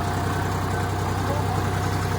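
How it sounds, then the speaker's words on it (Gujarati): A tractor engine idles at a farm during sowing, giving a steady, continuous low rumble with an even hum that stays close and unchanging throughout. "દર્શભાઈ બે ગયા ટ્રેક્ટરમાં."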